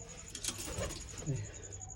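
Pigeons coo softly at a rooftop loft, low murmuring calls mixed with a steady background of other birds, and a voice can be heard talking over them.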